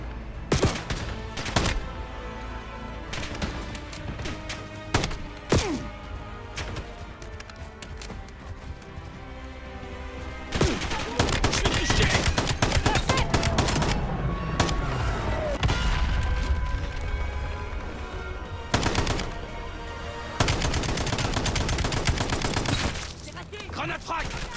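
Call of Duty Black Ops 7 gunfire crackles in dense bursts and rapid volleys, with loud automatic fire interleaved with single shots, explosions and game sounds, and in-game voices speaking at times.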